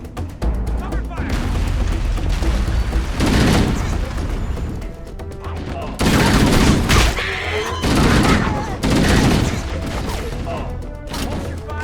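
Chaotic firefight in Halo: Combat Evolved, loud rattling weapon fire in repeated surges with booming impacts, with shouted voices in between.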